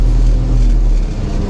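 A small engine with a time bar head rumbles loudly and steadily as the throttle opens, a close, continuous drone that holds level before easing slightly at the end.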